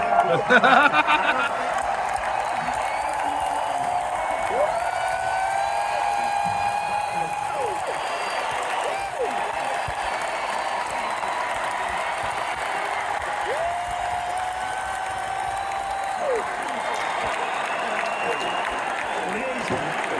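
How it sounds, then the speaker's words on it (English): Loud crowd applause and cheering fill a large political rally in Glendale, Arizona, a steady roar of clapping and shouts that runs unbroken for about twenty seconds, with scattered whistles rising above it. "I don't think I've ever introduced anyone that got applause like he just got."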